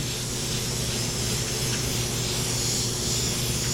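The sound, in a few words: airbrush spraying paint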